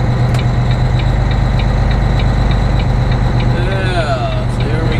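A truck engine idles with a steady low rumble and rhythmic knock while pulling out of a rest area, close and constant, with a faint squeal near the end.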